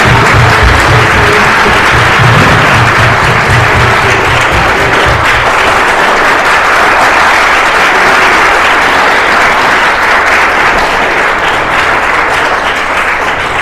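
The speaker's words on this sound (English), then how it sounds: "so big round of applause" A crowd at a thanksgiving celebration meal applauds loudly and continuously for over ten seconds, dense clapping holding steady throughout.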